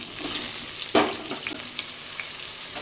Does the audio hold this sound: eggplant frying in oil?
yes